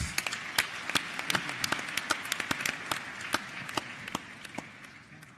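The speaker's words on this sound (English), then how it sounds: "Let's give him a round of applause." An audience at a youth summit claps in scattered, distinct hand claps that thin out and fade toward the end, with no voices over them.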